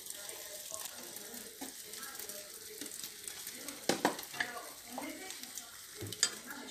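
A potato omelette cooks in a pan with a soft, steady sizzle, broken by a few sharper utensil clicks and taps against the pan, with faint voice nearby.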